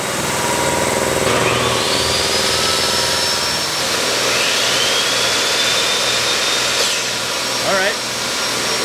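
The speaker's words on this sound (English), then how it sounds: "Table saw." A table saw powered by an Anker F3800 power station runs with a steady motor whine, a rising high-pitched blade tone spinning up and settling, then winding down near the end.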